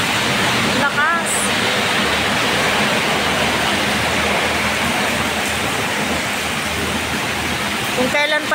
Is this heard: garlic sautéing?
no